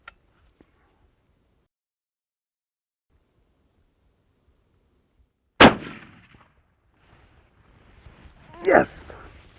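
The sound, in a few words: rifle gunshot at a whitetail deer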